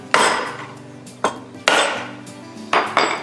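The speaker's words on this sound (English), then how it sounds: "take a hammer and just give it a quick tap" Several sharp metallic taps of a hammer striking a screwdriver to knock a plug out of a garbage disposal come in uneven pairs, each ringing briefly before fading.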